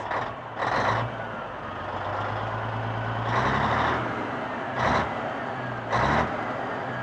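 A Peterbilt 359 truck engine idles with a low, heavy rumble, broken by four loud throttle blips spaced irregularly, each a short roaring burst.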